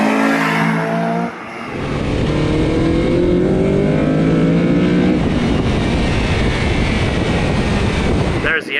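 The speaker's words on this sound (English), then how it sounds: "There's the engine braking right there" A Mugen Honda Civic Si engine winding up high in the revs and then holding near the top of the RPM range while engine braking, a loud, strained, sustained drone with falling and rising tonal lines, recorded close.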